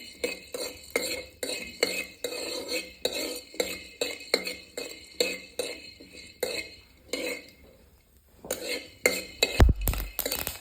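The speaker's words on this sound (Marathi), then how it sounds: "ज्वारी गरम होईपर्यंत थोडीशी उलटण्याने किंवा चमच्याने हलवून घ्यायची" Sorghum grains are stirred with a spoon in a very hot wok over a wood-fired stove, giving close, rhythmic metallic scrapes and gritty rattles about twice a second that pause briefly near the end before a final clatter.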